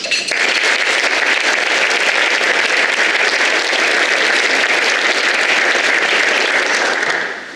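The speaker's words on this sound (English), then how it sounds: "we should applaud them for their efforts" A crowd at a county State of the County speech applauds the League of Women Voters, dense steady clapping loud and sustained for about seven seconds before cutting off.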